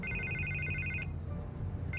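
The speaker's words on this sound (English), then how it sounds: "I can't get the phone to stop ringing." In The Batman Telltale video game, a telephone rings with a bright electronic trill, one long ring, a pause, then the next ring starting, heard close and clear over a low background hum.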